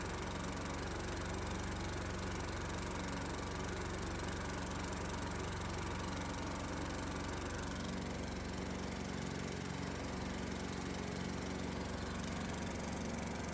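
A big DC motor fed by an alternator, running steadily with a continuous engine-like drone and hum, loud and close, with a slight shift in tone partway through.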